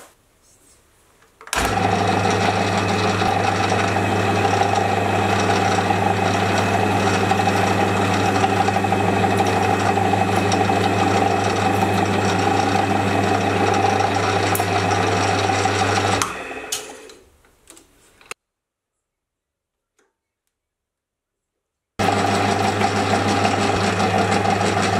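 A metal lathe cuts 1mm pitch threads on a shop-made tap, running as a loud, steady mechanical drone with strong low hum for about fifteen seconds, then spinning down to silence before starting up again near the end.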